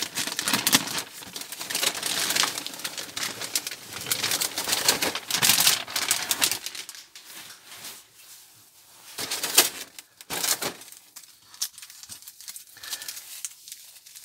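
A new plastic bag of Iron Man model kit parts being opened and handled, giving crisp crinkling and rustling bursts up close, with quieter pauses between.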